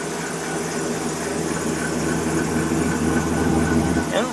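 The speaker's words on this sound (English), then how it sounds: "Exhaust sounds nice and quiet." A 2005 Dodge Grand Caravan SXT minivan idles steadily with a low, even, quiet exhaust rumble, continuous and close, with no talking over it.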